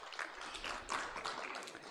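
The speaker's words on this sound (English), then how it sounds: "Round of applause, please" An audience at a digital transformation festival panel gives a short burst of applause, many hands clapping together at moderate distance for about two seconds without pause.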